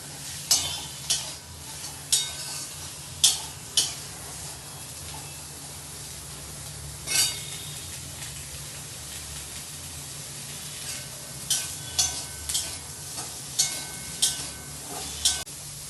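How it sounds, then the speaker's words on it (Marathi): Chopped onion and tomato sizzle and fry in a hot pan for a spicy coconut masala gravy. A spoon scrapes and stirs in quick clusters of clinks over a steady low hiss, with no talking. "टोमॅटो पण भाजून घेऊया"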